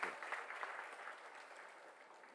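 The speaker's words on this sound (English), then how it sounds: "Please give him a big round of applause." Audience applause at a talk event for an honoured guest, a brief, fairly faint patter of many hands that starts a little stronger and settles into a steady wash.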